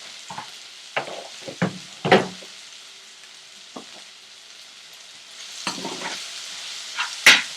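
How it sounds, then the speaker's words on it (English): Finely chopped onion and cumin seeds sauté in oil in an open pan, a soft steady sizzle broken by sharp spatula scrapes and clacks, clustered early and again near the end, close and moderately loud. "now we let the onion slightly change shade and get sauteed along with the cumin seed"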